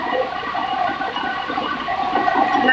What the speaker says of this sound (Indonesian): arusnya lumayan kencang, kuat seperti arus kali. Dan hujannya belum juga berhenti.